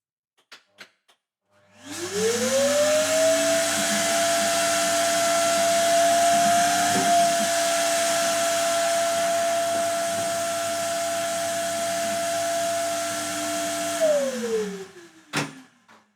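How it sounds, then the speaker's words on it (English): A vacuum cleaner switches on, its motor whining up to a steady drone for about twelve seconds, then winds down and stops. "warning, vacuum coming on right now."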